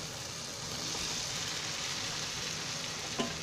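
Potatoes dropped into a pan of cooked masala over a lowered gas flame, giving a steady soft sizzle and frying hiss throughout, with a small knock near the end.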